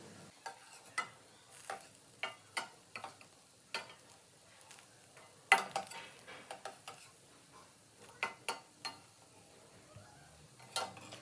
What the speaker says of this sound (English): And in 2-3 tablespoon oil, fry them.